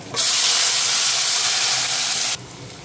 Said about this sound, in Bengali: কলাটা তুলে নেওয়ার পর এখন আলুগুলো ভেজে নেব।